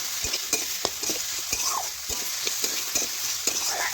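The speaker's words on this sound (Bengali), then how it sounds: "এখন ভেজে রাখা ফুলকপি দিয়ে দিলাম, এটাও ভালোভাবে নাড়াচাড়া করে মিশিয়ে নিচ্ছি" A spoon scrapes and stirs fried cauliflower through a sizzling pan of shukto, a Bengali vegetable curry, with rhythmic knocks against the pan over steady loud frying hiss, close up and with no voices.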